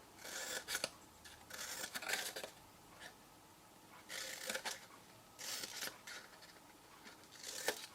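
Scissors trim paper for a handmade chocolate box, giving close, quiet snipping in short clustered bursts separated by brief pauses.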